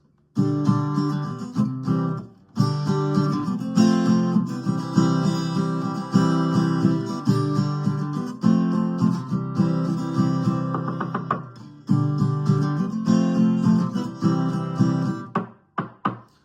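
Strummed guitar chords repeat in a steady rhythm, some strokes cut short by the fretting hand muting all six strings, ending in a few sharp percussive chucks.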